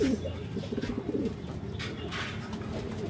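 A racing pigeon, a blue bar or grey cell bird banded TCRL 2796, gives low, soft coos in a short run of rolling calls close by, with fainter chirps and background rustle.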